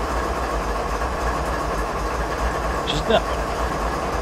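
A BNSF ES44DC diesel locomotive in Train Simulator 2016 on Stevens Pass rolls past a track switch. A steady, fairly loud rumble of engine and rail noise runs throughout, with a brief clack near the end and a voice talking over it.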